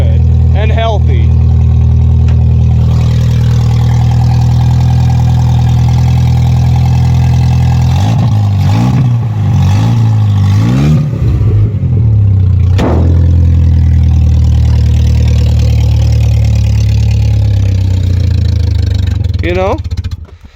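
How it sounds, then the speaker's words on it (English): Car motor running with no exhaust fitted: a loud, rough, steady low rumble at idle that carries on throughout, with someone briefly talking over it midway. "Besides having no exhaust, the motor sounds good and healthy."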